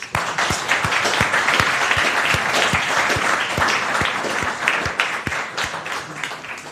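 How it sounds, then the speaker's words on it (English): A conference audience gives a sustained round of applause for the MICS team, dense steady clapping from many hands filling the hall, loud and continuous with no talk over it. "congratulate the MIX team and Attila by giving a round of applause"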